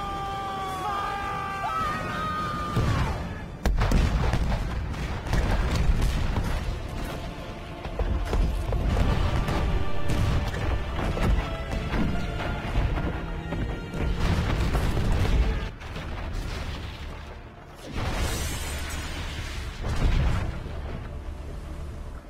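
Shipboard cannons of an Age of Exploration vessel fire in a dramatic battle scene, with loud repeated booms and crashes over a dense, roaring mix of music and shouting.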